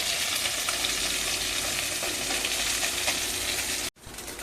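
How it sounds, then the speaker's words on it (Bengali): Small fish sizzle as they fry in a kadai, a loud, dense, steady crackle that carries on unbroken until a brief break near the end. "মাছগুলো লাল লাল করে ভেজে নেওয়া হয়ে গেছে"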